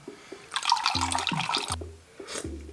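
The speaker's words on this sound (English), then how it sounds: "I am gonna go ahead and add that extra tablespoon of water" A tablespoon of water pours into a strong-flavored vegan, oil-free sauce, making a soft splashing rush that lasts about a second over a low, steady tonal background, followed by a brief second trickle.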